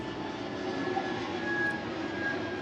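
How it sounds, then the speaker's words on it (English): An airplane passes overhead, a steady broadband engine roar right in the flight path, holding at a fairly even level throughout with no talk over it. "A plane is going over."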